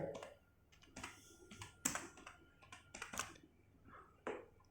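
Clicky keystrokes on a computer keyboard, typed in short irregular bursts with pauses between them, fairly quiet and close with no talking over them.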